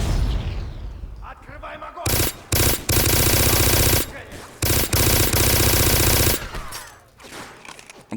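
Loud, sustained automatic gunfire in the shooter game Black, Gulag level, with long dense bursts broken by brief pauses, close and dominating everything else.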